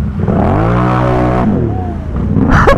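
An off-road truck on huge Assassinator tires drives nearby with a loud engine note that rises and falls in pitch as it is revved, followed by another brief rev at the end.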